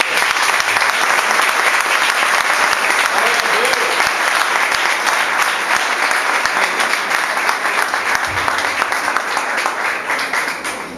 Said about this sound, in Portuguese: Você pode dar um aplauso para o Senhor?